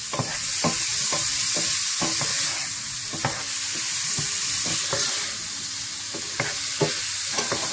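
Tomatoes frying briefly in a pan for chicken shashlik, giving a steady loud sizzle with repeated clicks and scrapes of stirring throughout.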